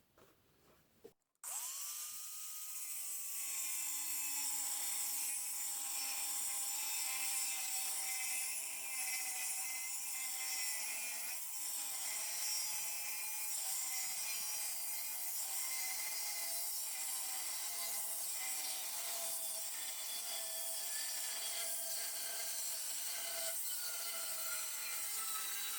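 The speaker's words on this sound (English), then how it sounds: "This is just a little 7-amp grinder." A small 7-amp grinder whirs steadily after a brief start, its high, sustained motor whine holding loud and close for over twenty seconds with slight wavering pitch and no talk.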